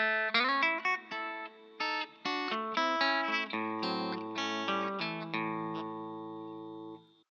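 Electric guitar plays a country lick, a quick run of plucked notes with pull-offs and double stops, clean and close, ending on a ringing sustained chord with no talking.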